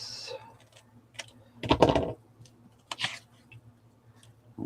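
Paper being cut for a scrapbook layout page, with a few short, close crisp snips and rustles over a steady low hum.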